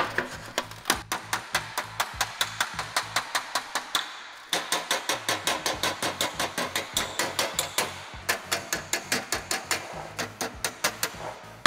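Rapid, evenly spaced metallic hammer blows ring on sheet metal against a dolly, up close, on a 1960 Cadillac trunk drop-down, with a brief pause midway before the steady tapping resumes.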